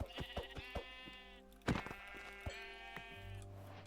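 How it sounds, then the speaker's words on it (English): Repeated bleats from several white sheep in a video game, a run of short calls followed by longer wavering ones, close and clear with no talking. "I have 3 white sheep here"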